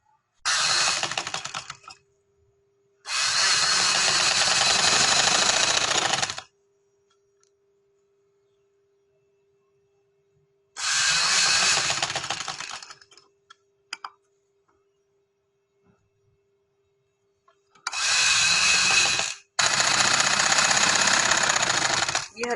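A sewing machine stitching fabric for a winter frock runs in four loud bursts of rapid mechanical rattling, separated by quiet pauses with a faint steady hum.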